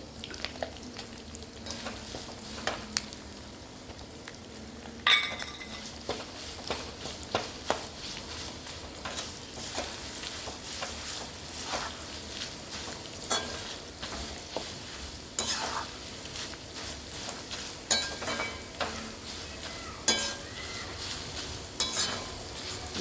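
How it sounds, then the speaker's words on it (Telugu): Garlic paste sizzles and fries steadily in a pan, with a spoon scraping and stirring at intervals and occasional utensil clinks against the metal, close and moderately quiet. "వెల్లుల్లి పేస్ట్ కూడా వేగాలి."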